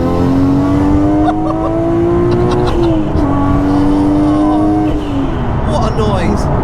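Modified 550 bhp Nissan R34 GT-R V-Spec Nür, heard from inside the car, accelerating hard, engine note climbing through a gear, briefly dipping at a shift, then climbing again, loud and close with road noise beneath.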